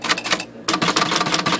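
Quick rattling strikes from an IBM Selectric electric typewriter repeatedly printing dashes, dense and close, with one brief gap before the rapid clatter resumes.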